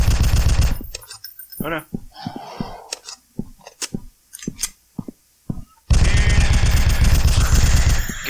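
Heavy gunfire bursts in Slenderman Must Die, loud blasts at the start and a sustained roar of shots near the end, with scattered sharp hits and a player's voice exclaiming in between.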